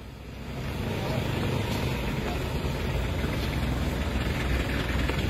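A convoy of eight vehicles pulls away behind a police escort near Wonogiri, heard as a steady, broad engine and road rumble that swells in the first second and then holds at a moderate distance.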